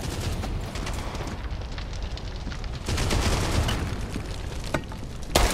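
In World War Heroes, a team deathmatch in Berlin, grenade blasts go off as a loud, dense rumble of explosions and gunfire that runs the whole time, with sharper bursts near the end.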